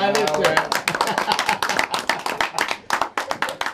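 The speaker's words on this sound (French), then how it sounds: "Arlette Yaye, que je demande aussi d'applaudir." An audience at a women's day celebration event claps in separate, sharp claps that settle into a rhythmic beat, with a voice speaking briefly at the start.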